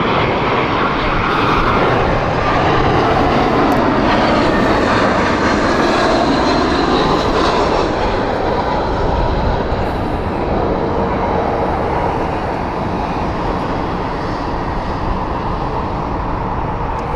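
A Dublin-bound airliner's jet engines roar loud and steady at Heathrow for the full length, a broad rushing drone with faint voices beneath.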